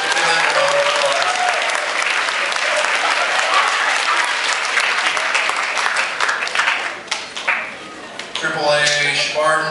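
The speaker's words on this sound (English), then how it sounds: "Give them a round of applause" Loud, sustained audience applause filling a hall, thick and continuous before thinning out near the end as a voice begins speaking over the last claps.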